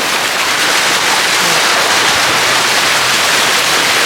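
Heavy rain pours steadily during a flood at a family outing in the Philippines, a dense, loud hiss of water with no break across the whole stretch.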